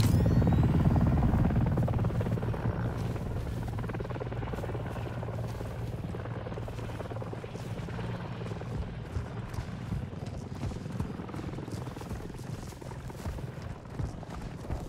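A military helicopter in the Call of Duty Modern Warfare II campaign, a steady loud rotor drone with low throbbing, beneath gunfire and game effects, with a voice speaking over it.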